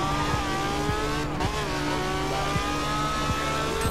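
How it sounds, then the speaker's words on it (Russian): A LaFerrari in the racing video game The Crew accelerates hard, its engine note climbing in steady sweeps through several gear changes with brief dips between them, loud and continuous throughout. "мы давим на газ и смотрим"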